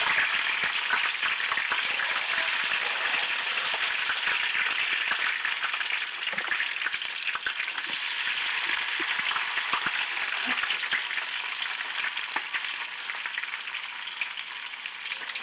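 Tater tots deep frying in hot oil, a steady dense sizzle and crackle with popping bubbles holding an even, close level throughout with no talking.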